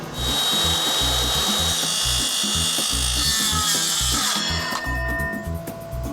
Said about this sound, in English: I'm just using a square that I'm clamping to the post and then using that as a jig for the saw to glide along.